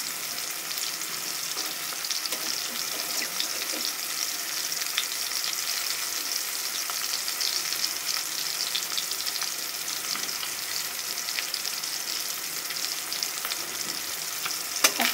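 Rohu fish frying in a pan fills the whole stretch with a bright, steady hiss and crackle of hot oil, close and unbroken, with no talking.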